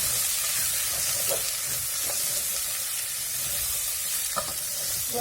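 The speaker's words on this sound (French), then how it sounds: "On mélange bien" Spices are stirred into food frying in a pot during Ramadan cooking, with a steady loud sizzle and occasional scraping strokes of the spoon against the pot.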